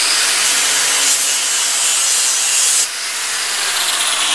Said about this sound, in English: Just barely grinding it